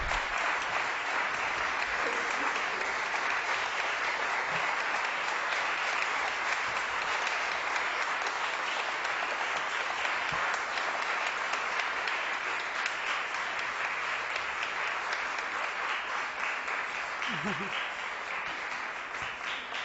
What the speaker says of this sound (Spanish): una muy calurosa realmente bienvenida con sus aplausos